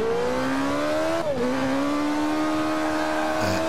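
Racing car engine in Forza Motorsport 5 holding a steady high-revving drone, dipping briefly on a gear change then climbing again, loud and continuous with no talk.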